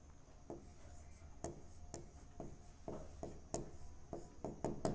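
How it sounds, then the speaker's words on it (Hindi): A pen scratches out handwriting during a Hindi grammar lesson: a steady run of short, close strokes and scrapes, faint and even, with no talking. "जैसे में मैं लिखता हूं"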